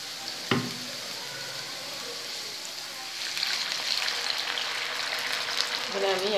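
Water is poured into a hot pan of frying potatoes for a Bengali black-cumin potato curry over a high flame. A sharp knock comes first, then a steady soft sizzle swells louder and stays bubbling to the end.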